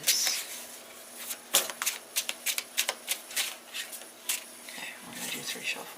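Tarot cards shuffled by hand in a quiet room, giving soft, close riffling bursts and papery flutters that come in uneven clusters with brief pauses between them.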